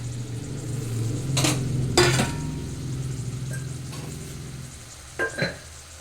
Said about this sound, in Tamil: இந்த பீன்ஸை வந்து இதில் சேர்க்கணும் சேர்த்து கொஞ்சம் கல் உப்பு சேர்த்து கிண்டி வேக விடணும்